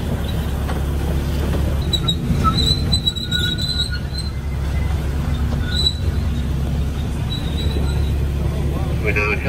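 A train rumbles past at Hokimai in New Zealand's Coromandel, steady loud wheel noise with squealing and clicking on the rails throughout, voices talking faintly underneath.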